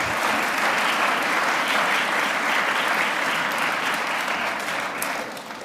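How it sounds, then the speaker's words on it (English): Sustained, dense applause from an audience filling a school chapel, loud and even throughout before tapering slightly at the end, with no speech over it. "One more round of applause for Emma Nyman"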